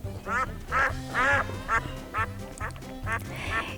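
A duck quacks about eight times in a steady, close rhythm, each call loud and nasal against a quiet background.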